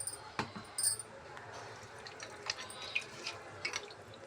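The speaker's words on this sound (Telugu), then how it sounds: "వాటర్ యాడ్ చేసుకుంటున్నాను." Water being added to a cooking pot during meal preparation, heard as soft, faint dripping and light splashing with a few sharper clinks over a quiet background.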